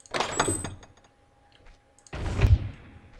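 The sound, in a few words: door opening and closing sound in a Zelda fan game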